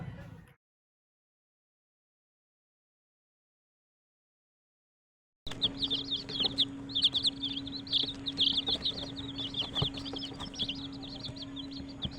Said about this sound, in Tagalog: ipapakita ko sa inyo yung video ng mga sisiyo na sinend niya na napisa doon sa kanya